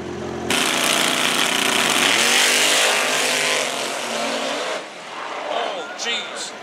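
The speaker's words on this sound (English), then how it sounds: "89 Mustang out of control," A 1989 Ford Mustang drag car at a dragstrip roars loudly at full throttle with tires squealing as it loses control, then the engine noise suddenly drops away near the end.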